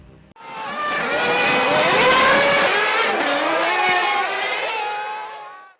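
Formula One race cars at the Italian Grand Prix roar past loudly with high, rising and falling engine whines, several cars overlapping in a continuous sustained pass-by with no talk.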